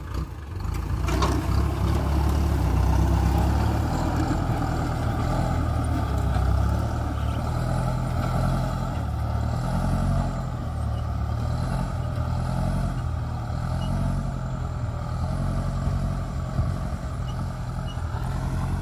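Kubota L5018 farm tractor with its engine running, a steady loud diesel rumble that holds for the whole stretch, heard close with no talking over it.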